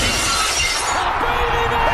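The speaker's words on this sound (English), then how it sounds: "there's a smashing glass coming here somewhere" Glass smashes and shatters loudly, a dense burst of breaking shards that rings briefly and then thins out into scattered tinkling debris, with no voices.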